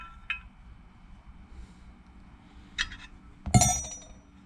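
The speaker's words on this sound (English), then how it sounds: "we're going to use our other wrench to" Wrench on a part in a zinc die cast carburetor float bowl for a Rolls-Royce 20/25, Wraith or similar, giving a few sharp metallic clinks spaced apart, the last one loudest, close up in a quiet room.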